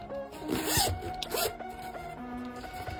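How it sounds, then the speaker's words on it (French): A blue zipper being pulled along a Chinese New Year Charizard Pokémon card case, a close, steady rasping run lasting a few seconds with a brief pause midway. "il a une fermeture éclair qui est bleue"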